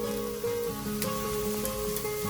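Lamb sausage and chitterlings sizzle steadily on a hot grill, a continuous close crackling hiss with occasional sharper pops.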